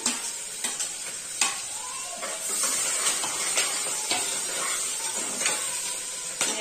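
Onions and curry leaves frying in hot oil in a pan for a mutton cashew curry, a steady crackling sizzle with sharp stirring scrapes and clacks of a spoon against the pan.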